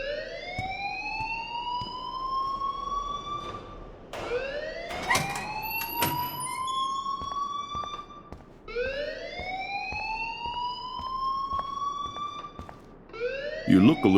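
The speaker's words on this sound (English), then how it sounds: "please turn off that alarm since that's your job" A school alarm in the video game Life is Strange wails in repeated rising sweeps, loud and close, each cycle climbing and cutting off, with a brief burst of clatter between cycles.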